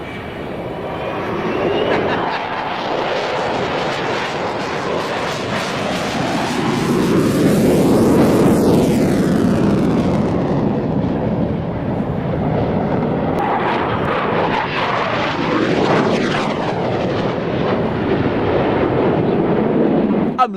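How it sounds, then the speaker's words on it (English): Jet aircraft passing loudly overhead, a sustained roar that swells twice with sweeping pitch as it approaches and recedes, close and continuous with no talk. "Jet noise, sound of freedom."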